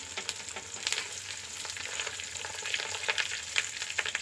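Fish roe sizzling and spitting in hot oil in a pan, a steady close crackle with sharper pops scattered throughout, no voices.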